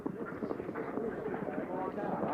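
Horses gallop strongly across the course of a 1983 team horse-trials event, dense muffled hoofbeats that sound moderately close, with a commentator talking over them.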